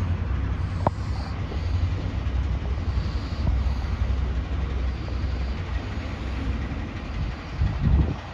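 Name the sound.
passenger train arriving at station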